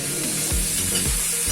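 Pork being added to a hot pan for Filipino menudo, a loud continuous sizzle with stirring scrapes and a couple of low thumps, close and with no talk.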